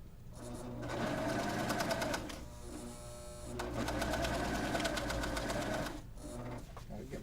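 A Husqvarna Viking Amber Air S|500 sewing machine stitching in two runs of fast, steady mechanical whirring and needle tapping, close and fairly loud, with short pauses between runs.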